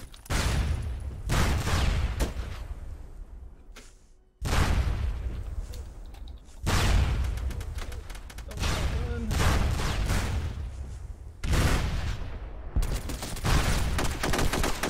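Rapid bursts of gunfire and explosive booms from a SOCOM 2 online match, loud and close, coming in repeated volleys with short gaps, with a voice talking over parts of it.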